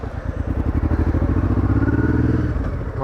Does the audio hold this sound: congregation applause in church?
no